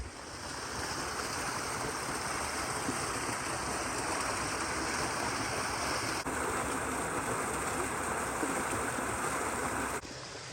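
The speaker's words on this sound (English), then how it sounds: "Good water flow" Alger Creek in the San Bernardino National Forest rushing over rocks, a loud, continuous broadband wash of flowing water, close and unbroken for the full stretch.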